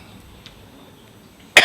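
A single short, sharp cough lands right at the end, near and fairly loud, after a stretch of quiet room tone.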